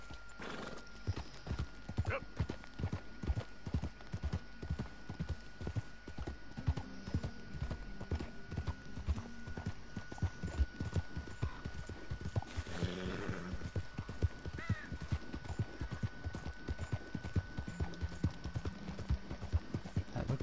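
Hooves of a Dutch Warmblood horse clip-clop steadily through Red Dead Redemption 2, a continuous close rhythmic gait with occasional whinnies, under game ambience and a low background voice.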